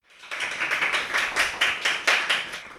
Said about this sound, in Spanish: Les pido un aplauso, por favor, para Augusto.